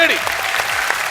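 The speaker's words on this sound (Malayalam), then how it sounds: "എല്ലാരും നല്ല കൈയടി" A studio audience at a televised comedy show applauds two performers, a brief, steady burst of many hands clapping with a voice sliding over the start.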